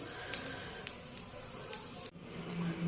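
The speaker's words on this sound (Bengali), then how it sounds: "দুষ্টুটার জন্য সসেস ভেজে নিচ্ছি" Sausages frying in a pan in a home kitchen, a steady soft sizzle broken by several sharp, evenly spaced pops and spits, followed by a brief dip and quieter sizzling.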